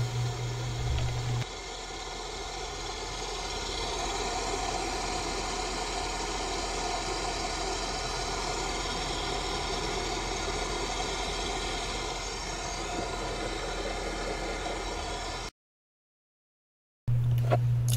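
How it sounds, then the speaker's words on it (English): A 2011 Honda Civic idling with failing A/C compressor bearings: a steady engine drone with a dense, gritty scratching texture throughout, close and continuous, broken by a brief dropout near the end, with no talking. "you can hear how there's like a scratching sound, and it sounds pretty much like what bearings sound like when they are failing"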